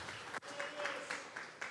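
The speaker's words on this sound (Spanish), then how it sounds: "Vamos a regalarle ofrenda de palmas al Dios de la gloria." A church congregation applauding during a Sunday service, a dense wash of clapping with a voice speaking over it.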